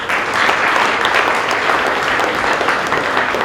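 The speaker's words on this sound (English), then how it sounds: "Please give a huge round of applause." Audience clapping at a school presentation day, a loud, sustained burst of many hands applauding together, continuous from start to finish without talk.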